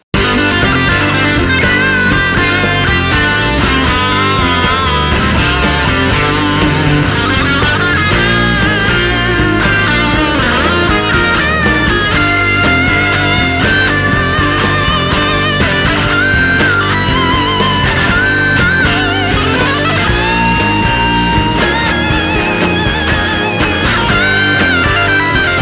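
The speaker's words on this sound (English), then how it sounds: "if we hear that all in context with those 6 rhythm parts," A Line 6 Helix overdriven electric guitar lead solo rides on top of a dense mix of six layered rhythm guitar parts. The full band texture stays loud and unbroken for about twenty-five seconds, with no talking.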